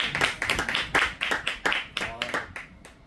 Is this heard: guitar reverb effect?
no